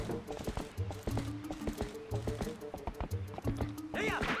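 A horse gallops in a video game, rhythmic clip-clop hoofbeats repeating steadily and fairly close, with a voice talking over them.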